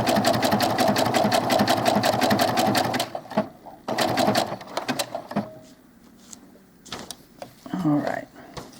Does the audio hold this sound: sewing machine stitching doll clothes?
yes